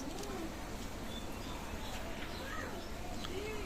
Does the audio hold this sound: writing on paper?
no